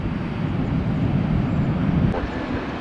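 Delta Boeing 737 airliner departing Tampa after a long takeoff roll, a loud continuous broadband engine roar heard close up and steady throughout.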